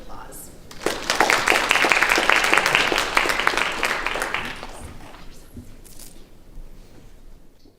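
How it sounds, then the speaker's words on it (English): An audience at a talk applauds to welcome a speaker; a burst of clapping swells quickly, holds for a few seconds, then fades out as a voice begins. "Please welcome Janet with a round of applause."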